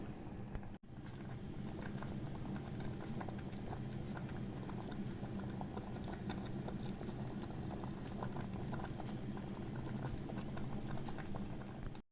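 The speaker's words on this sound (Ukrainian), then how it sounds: "Булькає і буде булькати хвилин 7." Steady bubbling of water boiling with rice in a pot, continuous and close, with a brief break near the start.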